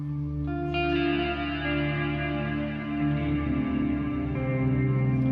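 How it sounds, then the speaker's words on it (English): Sustained guitar chords through a Meris Mercury X reverb pedal, drenched in lush reverb, notes blooming and lingering in a long shimmering tail, played alone without talk. "But also just listen to that reverb."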